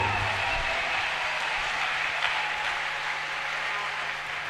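A congregation at a church deliverance and healing service claps together: dense, continuous applause that holds steady throughout and eases slightly toward the end, heard from within the hall.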